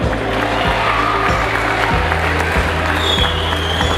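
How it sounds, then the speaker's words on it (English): Applause in a room at an event honoring a jiu-jitsu figure on Guam, clapping mixed with a steady low hum and rhythmic thumping music, sounding busy and somewhat muffled. "Round of applause."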